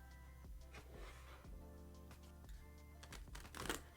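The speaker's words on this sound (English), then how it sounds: "Let me get your cards shuffled and laid out" Soft riffling and flicking of tarot cards being shuffled, quiet and close, with irregular papery snaps and a brief louder flurry near the end.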